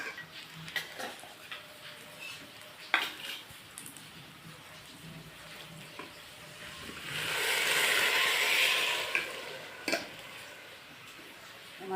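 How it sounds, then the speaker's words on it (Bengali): Water is poured into a pot of fried rice while cooking vegetarian pulao, a rising hissing rush lasting a few seconds amid light kitchen clatter and clicks. "এবার আমি জল দিয়ে দেবো।"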